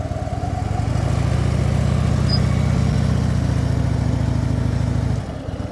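A motorcycle engine runs at low, steady revs during a slow U-turn drill, a close, even rumble that drops away near the end.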